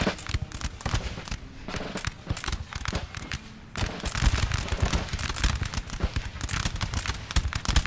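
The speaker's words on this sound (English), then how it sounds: "There's a bit of fire coming from the Grenadiers over here" Musket fire from Grenadier infantry in the Napoleonic-era battle game Napoleon Total War, a continuous crackling volley of many shots, loud and dense, briefly thinning before surging again.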